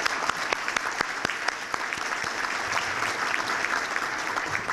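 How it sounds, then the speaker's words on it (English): Steady applause from an audience at a chamber of commerce breakfast welcoming new members, continuous and moderately loud with distinct individual claps standing out near the front. "Have a round of applause for our new members."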